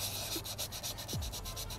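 A sanding block rubbing over car body filler during a street-side smart repair, with steady back-and-forth strokes in an even rhythm, close and fairly loud, and no voices.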